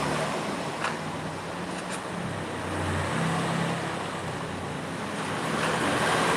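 A motorbike speeds along in the battle-royale game Free Fire, its engine a steady, loud roar with rushing wind-like noise that swells slightly toward the end, with no voices.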